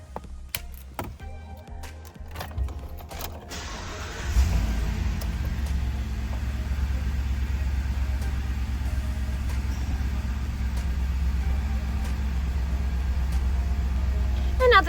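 A 2022 Ford F-250 Super Duty pickup starts with a key: a few clicks and ticks, then the engine catches and settles into a steady, deep idle rumble heard from inside the cab.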